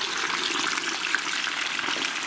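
Chicken wings frying in hot oil give a steady, dense crackling hiss with fine bubbling texture, close and continuous throughout.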